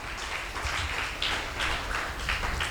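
Church congregation at a Tamil Christian service applauding together, a steady wash of many hands clapping at moderate loudness throughout.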